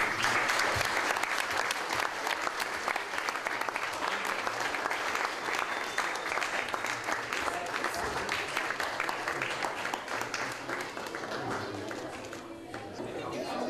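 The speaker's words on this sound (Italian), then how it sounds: "E quindi direi di sottolineare con un grande applauso questo momento." An audience applauds at an award ceremony: dense, sustained clapping from many hands fills the room at full strength, then thins slightly toward the end.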